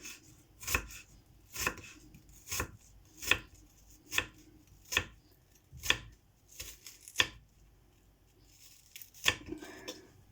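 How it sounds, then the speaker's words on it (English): Potatoes and onion being chopped on a board, a series of sharp knife thuds spaced irregularly at close range, roughly a dozen strokes with quiet gaps between. "I'm doing chop potatoes, onion"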